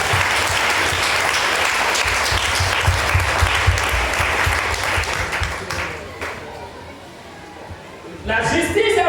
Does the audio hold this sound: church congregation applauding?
yes